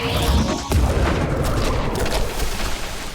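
Fire attack spell in Shadows Over Loathing erupting with a heavy boom, then a rumbling crackling blast that rolls on loudly for several seconds.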